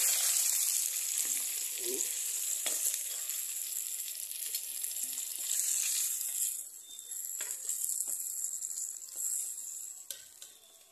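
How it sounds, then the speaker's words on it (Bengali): Fish frying in hot oil gives a steady, bright sizzle throughout, with a few soft clinks and scrapes as the pieces are lifted out of the pan; the sizzle dips slightly near the end. "এই যে মাছটা ভাজা হয়ে গেছে, মাছটা তুলে নিচ্ছে এরা।"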